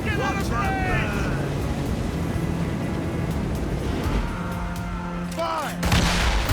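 Ship cannons fire during a naval battle in Assassin's Creed Rogue, heavy booms over constant sea and combat rumble, while crew voices shout throughout.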